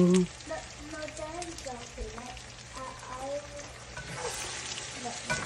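Tomato, ginger, garlic and ground green chili frying in a karahi give a dense, continuous sizzle close up, with a louder burst at the start as the ingredients hit the oil.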